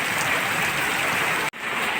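Steady rain hisses evenly throughout, a dense close patter with a brief cut to near silence before it resumes.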